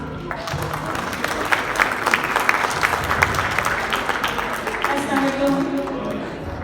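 Sustained audience applause at an Eid Milan cultural stage show welcoming a female performer, moderately loud and continuous, with crowd voices and some talk running through it.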